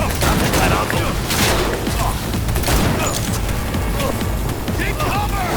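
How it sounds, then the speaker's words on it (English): Gunfire in a firefight from the video game Cyberpunk 2077 on PS5, with dense, continuous bursts and booms filling the mix at loud, steady volume, and voices shouting over the shooting. "Under heavy fire!"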